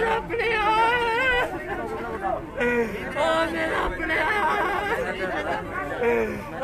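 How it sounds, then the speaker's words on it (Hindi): An angry crowd of protesters blocking a road in Satwari, Jammu, with a mass of overlapping agitated voices and shouting, close and loud, steady throughout. "यहाँ पर भीड़ जो है काफी गुस्से में है।"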